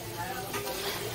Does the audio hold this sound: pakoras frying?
yes